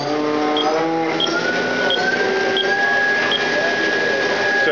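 The spindle of a 2006 HAAS EC-300 horizontal machining center runs at 12,000 RPM, producing a steady, fairly quiet high whine with a few faint, evenly spaced ticks and no talking.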